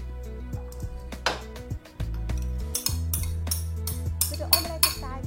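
Drained vegetables are stirred with sauce in a salad bowl, producing a string of clinks and scrapes of a utensil against the bowl, irregular and close, some sharp and bright.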